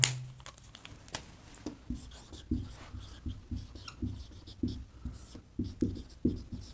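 A pen scratches steadily across paper as someone writes out notes for a Class 9 history lesson, in quick rhythmic strokes with short pauses, close and quiet with no talk.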